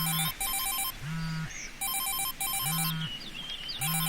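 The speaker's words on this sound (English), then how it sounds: "Phone ringing." A phone rings in a video game, a synthetic electronic ringtone in regular bursts of warbling tones with low pulses, repeating four times, clear and alone.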